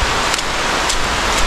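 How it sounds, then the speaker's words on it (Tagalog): Rain falling outdoors on a rural Filipino farm, a loud, dense, steady hiss close by with no other sounds over it. "Ulan lang to."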